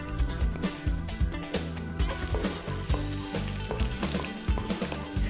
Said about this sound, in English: now you are ready to saute the onion and garlic